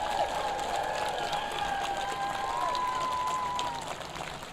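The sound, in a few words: applause for graduates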